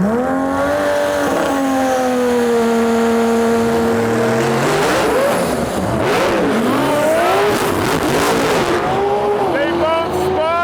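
Two drag race cars launch together in X275 eliminations, one on nitrous and one building turbo boost, engines revving hard in loud rising and falling sweeps with tire squeal as both spin, a continuous roar throughout under a commentator's voice.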